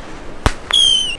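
Small fireworks set off in Bali: a sharp pop followed by a whistling, rising-pitched tone and another crack, close and loud over faint outdoor background.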